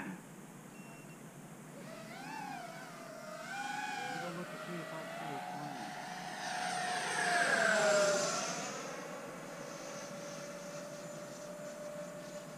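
An FMS Futura EDF radio-controlled jet flying a knife-edge pass, its ducted-fan whine rising and falling in pitch as it sweeps by, swelling louder near the middle before settling into a steady hum, with light wind and beeps early on.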